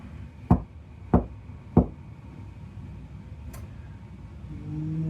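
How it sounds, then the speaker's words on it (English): Three sharp knocks land on a front door at an even pace, followed by a quieter tap a moment later, with faint room noise rising afterward. "There is a knock at the front door."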